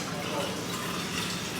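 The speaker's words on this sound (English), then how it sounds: "there's a hot water tap here" A hot water tap runs in a steady broadband rush, a continuous close hiss of flowing water with no pauses.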